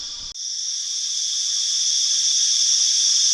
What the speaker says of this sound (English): Can you hear those cicadas?